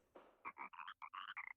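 Frog croaking in the video game Chibi-Robo, a quick run of about eight clipped, throaty croaks in an uneven rhythm, close and clear against a quiet background.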